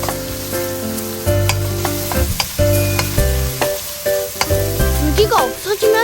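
Doraji root stir-fries in a pan: a sizzling hiss with stirring scrapes, largely masked by loud, melodic background music.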